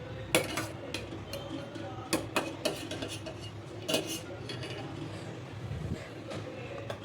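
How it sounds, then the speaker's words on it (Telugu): A spoon scrapes and knocks against a pot while a rice flour mixture is stirred, giving irregular faint clinks and scrapes over a low background hum. "మధ్యలో కలుపుతూ ఉండాలి, లేదంటే కొంచెం అడుగు పట్టినట్టు అవుతుంది"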